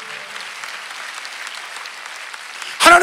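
A church congregation at a Sunday worship service applauding, a dense, steady wash of clapping that carries on throughout and ends with a brief, louder burst.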